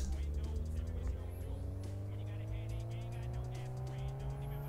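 A tuned car's engine in Street Racing Syndicate drones steadily on a dyno run, its pitch climbing slowly and evenly with no break for the whole stretch.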